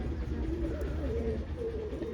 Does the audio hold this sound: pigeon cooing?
yes